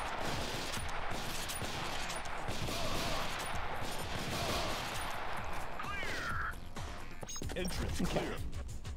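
Rapid gunfire in the Ghost Squad video game, a steady stream of sharp shots and impacts through the whole stretch, fairly quiet overall, with a voice talking now and then.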